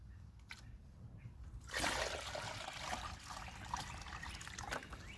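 Water from a bucket trickles and splashes through a small model river trench, starting as a faint dribble, then turning into a louder, continuous close-up flow that goes on to the end.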